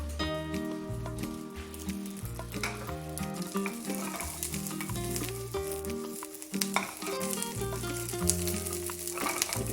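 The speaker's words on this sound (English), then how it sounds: "add this to a medium hot pan to start rendering out and get crispy" Lap cheong sausage sizzles and crackles steadily in a medium-hot pan, a continuous fry heard beneath prominent background music.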